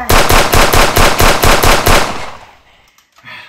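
Modded Nerf blasters fire a rapid burst of about a dozen sharp, evenly spaced mechanical shots, loud and close, that stops abruptly and is followed by faint rustling.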